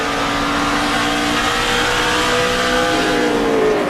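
NASCAR Nationwide race car at Gateway, a loud steady engine roar with a droning, slightly rising pitch as the car runs the oval, continuous and close for the whole stretch, no talk.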